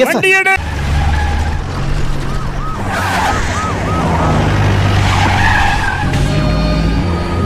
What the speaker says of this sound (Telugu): Very good jeep. He's getting away.